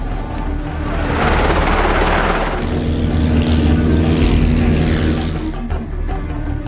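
Loud, steady rotor roar from Israeli military helicopters, continuous and close, with a high whine at first, then a dense throbbing drone that holds for several seconds.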